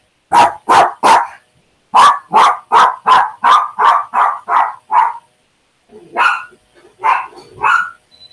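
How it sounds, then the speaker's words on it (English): A dog indoors barks repeatedly and loudly, a fast run of three barks followed by a steady series of about eight more, then a few looser, rougher yips and barks after a short pause. "I'm going to have to let this dog out. He's barking at everything."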